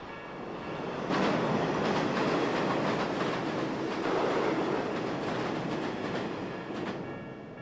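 A train rumbles past close by, steady rolling noise with rhythmic clacks of the wheels swelling and fading.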